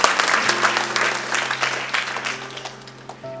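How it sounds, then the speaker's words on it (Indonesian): A church congregation applauds in a dense, sustained wash of clapping that lasts several seconds, with a low steady organ or keyboard tone held underneath and the clapping thinning toward the end. "Tepuk tangan yang berepon Yesus Kristus"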